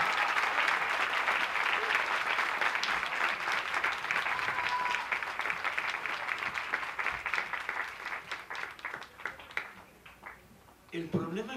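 Audience applause for author Paco Ignacio Taibo II at a talk about Pancho Villa, a dense, steady clapping from a sizeable crowd that holds strong for most of the time, then thins out and fades toward the end.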